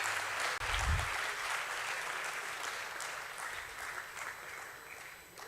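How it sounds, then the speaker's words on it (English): Sustained applause from a crowd at the Jio Financial Services listing ceremony at the Bombay Stock Exchange, a broad steady wash of clapping lasting throughout. "a huge round of applause for Jio Financial Services, live on the Bombay Stock Exchange."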